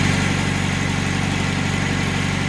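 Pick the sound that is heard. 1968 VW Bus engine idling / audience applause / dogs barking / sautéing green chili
1968 VW Bus engine idling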